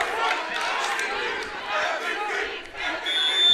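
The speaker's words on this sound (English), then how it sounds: "Crowd chanting MVP again as Obradovic comes back in." A volleyball crowd at a men's gold-medal match between Camosun and VIU chants in unison, a loud, rhythmic roar of many voices rising and falling with short swells.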